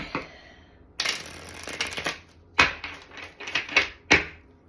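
Tarot cards are shuffled close up in several quick riffling bursts, each a crisp flutter followed by a tap, with short pauses between.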